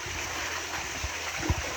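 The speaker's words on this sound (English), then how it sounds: "This is a waterfall right here that I spoke about in my last live video." Steady rushing water from a waterfall at a riverside property after recent rains, a broad continuous roar up close with a couple of low thumps and no speech.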